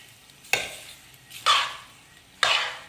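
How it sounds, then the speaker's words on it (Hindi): Two packets of cooked elbow macaroni are tossed and mixed in a bowl, three separate rustling, squelching strokes spaced about a second apart, close and fairly loud. "सारी मैक्रोनी हम इसके अंदर ऐड कर देंगे। मिक्स करेंगे।"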